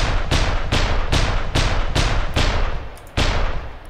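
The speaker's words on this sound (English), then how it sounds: "I think it sounds like a World War II anti-air cannon, basically, or a sniper." A World War II style anti-air cannon in the From the Depths video game fires loud booming shots in a steady rhythm, about eight heavy reports roughly half a second apart, each with a brief echoing tail.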